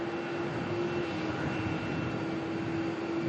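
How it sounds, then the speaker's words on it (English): Two Boeing 787 Dreamliners start their engines, heard as a steady, moderately distant jet whine with a sustained tonal hum over a broad rumble, unbroken and without talk. "we've got double Dreamliner action starting up down here too"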